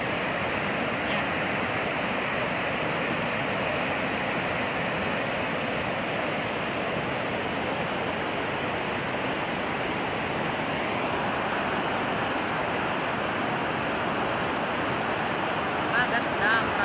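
Water pours over the overflowing Angat Dam as a constant, heavy roar of rushing flow that stays steady and loud throughout.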